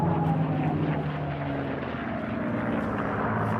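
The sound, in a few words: Mustang propeller fighter aircraft flying at air show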